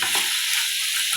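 Ridge gourd curry stirred in a hot pan, a loud, close sizzle lasting about a second with a faint scrape at the start.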